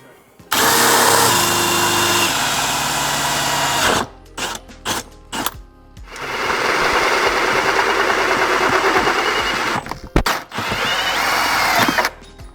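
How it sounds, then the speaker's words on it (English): A power drill bores a hole through a van floor in two long, loud whirring runs, with a few short bursts in between and its pitch dropping as the bit bites, recorded close up. "let's get that hole drilled"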